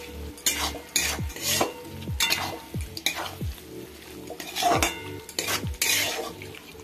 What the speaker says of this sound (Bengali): ভাজা চিংড়ি মাছটা দিয়ে এটাকে খুব ভালো করে কষাতে থাকবো